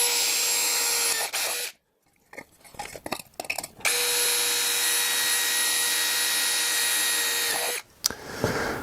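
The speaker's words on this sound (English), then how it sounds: "My mess is repaired, and I can now drill and tap my holes." A power drill with a 3.25 mm bit whines steadily as it bores into metal, stopping briefly in the middle before starting again for a long, even run.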